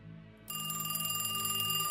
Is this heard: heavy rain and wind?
no